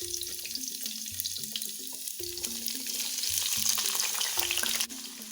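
Onions and rosemary frying in coconut oil make a steady, close sizzle that runs through the whole stretch, with light stirring noises and soft background music tones underneath.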